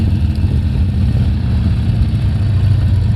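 A Harley-Davidson Sportster 1200 with an Evolution engine idles close by, a loud steady low rumble with an uneven throbbing pulse and no one talking.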